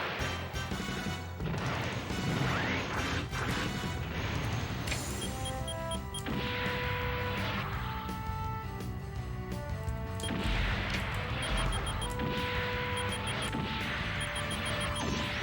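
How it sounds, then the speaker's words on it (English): Missiles firing in the space shooter Cho Jikuu Yousai Macross, sharp crashing launch bursts and impacts early on, then layered over bright tonal game music and repeated high electronic blips. "Fire some of the missiles there."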